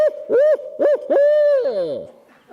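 An owl gives a hooting call in the rhythmic 'who cooks for you' pattern, several loud, clear hoots in quick succession that end in a drawn-out, descending final note.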